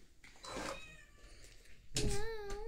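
A cat meows twice, a longer cry early on and a sharper, louder meow near the end, heard indoors over a card game of tong-its, with faint background murmur.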